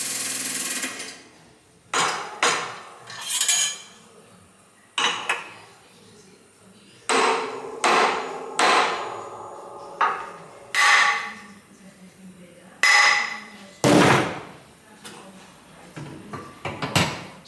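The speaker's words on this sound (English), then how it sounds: "So here you can see the finished crankshaft, which has all been aligned using our special heavy copper hammer." A heavy copper hammer strikes a crankshaft being aligned in a classic-vehicle workshop, a series of sharp, ringing metallic blows at irregular intervals, close and loud against a quiet room.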